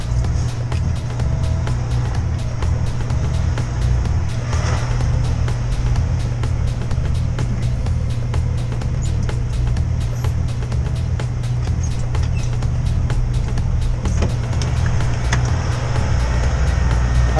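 A semi truck reverses slowly into a loading dock, its diesel engine giving a steady low rumble throughout with no one speaking.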